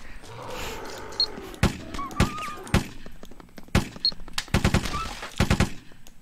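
Gunfire in the audio FPS zombie survival game Swamp, with sharp single shots followed by quick bursts of rapid fire, loud and close, over a faint ambient background.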